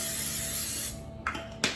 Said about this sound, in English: Olive oil spray to keep it from sticking.